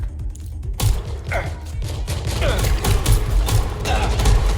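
Gunfire in the shooter video game Watch Dogs Legion: a dense run of sharp gunshots and thuds over steady mechanical game noise, starting abruptly after a brief quiet and continuing loud and close throughout.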